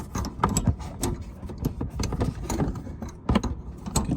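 Metal wrench work on the top shaft nut of a Bilstein shock on an H2 Hummer, a run of close clicks, scrapes and ratcheting taps in steady bursts with no voices.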